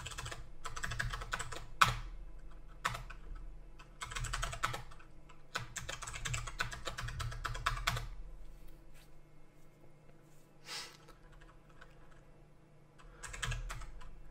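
Typing on a computer keyboard to enter CLI commands for a Cisco Firepower 4100, reached through a terminal server: bursts of fast, close key clicks with short pauses, one quiet gap partway, and no talking.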